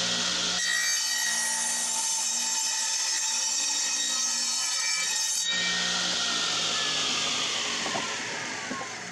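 A wooden board being cut with a saw, steady rasping wood-cutting noise loud and close, continuing alone for most of the clip with a tonal shift partway through.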